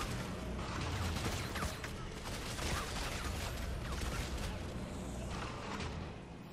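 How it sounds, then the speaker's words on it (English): Enemy gunfire from gun-wielding necromorphs in Dead Space 3, a steady, dense barrage of shots and impacts layered over game ambience and mechanical noise for several seconds. "Oh, we're getting shot."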